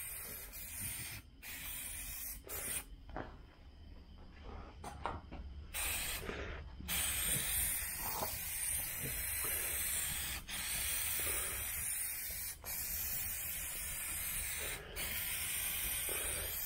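An aerosol spray can sprays dye onto car door panels for a 1977 Malibu Classic, a steady close hiss running almost continuously, broken by a few brief pauses and short bursts early on.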